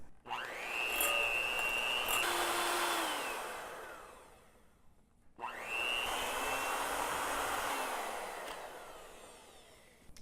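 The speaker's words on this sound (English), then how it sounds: "you want to beat the cream cheese and the powdered sugar till it's really light and fluffy" An electric mixer beats cream cheese and powdered sugar in two long, loud whirring runs, each rising and holding a steady whine before winding down, separated by a brief pause.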